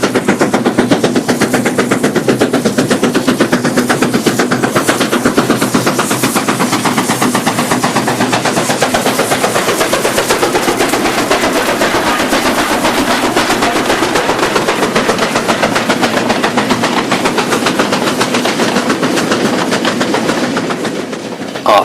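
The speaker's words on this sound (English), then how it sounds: "This is another loaded spoil train heading from the washery up to the tip." Chinese SY-class steam locomotive SY0754 hauling a loaded spoil train from the washery to the tip on the Nanpiao Railway, loud and close, with steady rhythmic exhaust beats and wagon clatter throughout.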